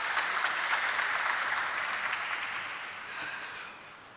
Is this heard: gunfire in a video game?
no